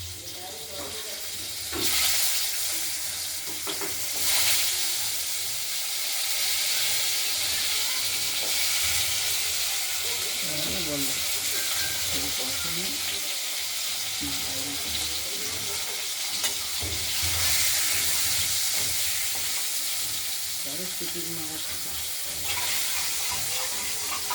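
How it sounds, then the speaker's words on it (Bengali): Cut potatoes frying in oil in a pan give a loud, steady sizzle and hiss from start to finish, with occasional stirring and a faint voice now and then. "আর আলুগুলো কেটে রাখা আলুগুলোকে ভেজে নেব।"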